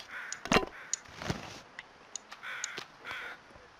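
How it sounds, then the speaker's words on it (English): Crows cawing in the snowy wilderness of the survival video game The Long Dark, several harsh caws spaced across a few seconds at moderate distance, with no talking. "I hear some crows."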